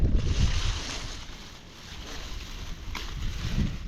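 Wind buffets the microphone in heavy low rumbling gusts at an outdoor strawberry field, rising and falling, with no voices.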